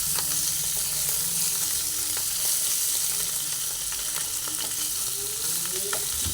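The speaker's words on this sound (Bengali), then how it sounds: "দেখুন সুন্দরভাবে এটা ভেজে নিচ্ছি কাকল ভেজে নিয়ে একটা পাত্রে তুলে ফেলছি" Spiny gourd (kakrol) pieces frying in a pan with a steady, loud sizzle, stirred now and then with scattered scraping clicks from the utensil, and no voices.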